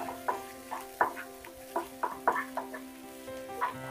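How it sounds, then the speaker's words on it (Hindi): Onions fry in oil over high heat while making dal tadka, a steady soft sizzle with intermittent crackles and spatters as they are stirred, close and moderately quiet. "1 मिनट तक तेज आंच पर प्याज को भूनना है।"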